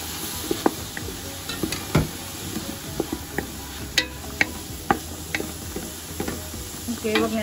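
Garlic sizzles steadily in a hot pan for Ginataang Kalabasa, with a soft frying hiss running throughout and clear intermittent ticks and clinks of stirring against the pan, close and moderately loud with no talk.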